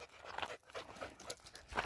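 A hot dog pants outdoors in the heat, quick uneven breaths close by and fairly quiet, with a few soft crunching footsteps mixed in.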